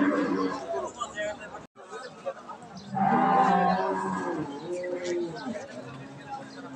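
Jersey and Friesian dairy cows with calves moo at a busy cattle market, loud drawn-out lowing calls standing out over nearby crowd chatter and talk.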